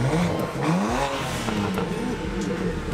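BMW 335i engine revving hard nearby, rising and falling pitch sweeps in quick succession with a throaty, loud rasp, heard alone without talk.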